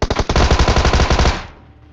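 A Tommy gun firing in PUBG: one rapid burst of roughly a dozen closely spaced, punchy shots over about a second and a half, then a short fading tail, with no voices.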